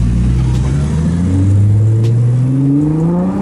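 A 700hp Rocket Bunny Nissan GTR pulls away from a red light, its engine note climbing steadily in pitch as it accelerates, loud and close with a deep rumble underneath.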